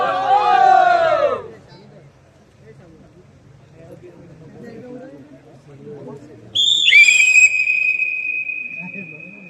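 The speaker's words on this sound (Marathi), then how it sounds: "शिट्टी वाजली, वेळ चालू झाली." A sharp, piercing whistle blast starts the timing at a district-level palanquin dance contest, sounding loud and sustained after a burst of earlier shouting over a low crowd murmur.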